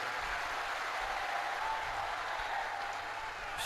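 Applause from an audience at a religious Shiv Mahapuran katha gathering, as the crowd welcomes the host family. Steady clapping runs unbroken for several seconds, heard from some distance and at moderate loudness.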